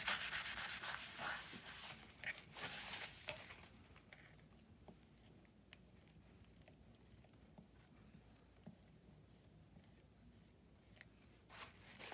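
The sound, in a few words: swiping a brush to pick up excess coating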